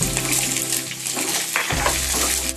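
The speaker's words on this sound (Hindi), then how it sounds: "2 मिनट तक हाई फ्लेम पर प्याज और कटी शिमला मिर्च को सौटे कर लिया है" Chopped onion and capsicum sautéing in a pan over a high flame for chili jackfruit, giving a steady, close sizzle and hiss with a brief clatter of stirring partway through.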